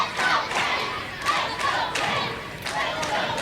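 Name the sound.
wrestling crowd cheering for Chase Oliver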